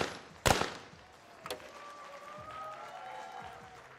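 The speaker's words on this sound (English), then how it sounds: "gets a huge round of applause nonetheless" Crowd applauding at a men's skeet shooting final at the ISSF World Cup in New Delhi, a sharp shotgun-like burst followed by a moderately quiet, sustained patter of clapping, with a second faint crack partway through.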